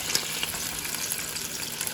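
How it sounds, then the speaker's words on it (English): Steady crackling sizzle of ham frying in a pan beside bacon, with small pops scattered throughout, close and moderately loud. "I'm frying it up next to the bacon"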